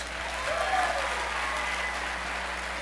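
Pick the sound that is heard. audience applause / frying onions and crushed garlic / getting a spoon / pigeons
audience applause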